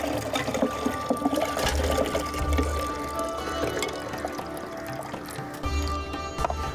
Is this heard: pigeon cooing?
no